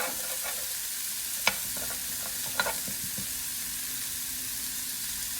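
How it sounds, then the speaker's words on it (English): Carnitas crisp in lard and extra oil in a pan, producing a constant close sizzle with a few scattered stirring clicks and two sharp taps. "I'll start crisping up the carnita. I like to just give it a little extra oil."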